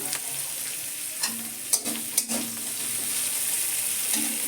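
Onion and bay leaf fry in hot oil for a fish curry, a steady sizzle with a few sharp scrapes of a spatula stirring the pan, close and without talk.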